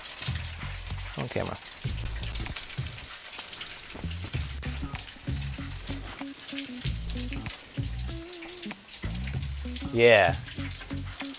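Egg foo young omelette mixture sizzling in a wok, a crackling fry under intermittent talk and background music, with a louder hiss burst near the end as the mixture hits the oil.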